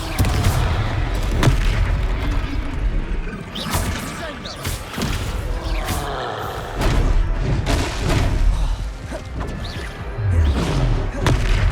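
Confringo blasting-curse explosions in the Hogwarts Legacy video game, repeated heavy booms and crashing impacts in quick succession, loud and dense throughout, with scattered sharp cracks between them.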